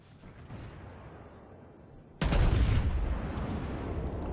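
Naval gun shells fire from the battleship Texas in World of Warships: a quiet low rumble gives way to a sudden loud booming salvo that rolls on as a sustained roar.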